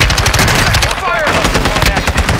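Rapid, sustained machine gun fire in the Warzone 2 video game, loud and close, with dense overlapping shots running the whole time and a brief faint voice buried under the gunfire.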